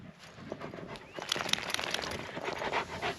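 Rapid, breathy panting from a sheepdog close by after a chase, steady and rhythmic over faint background noise, without any voices.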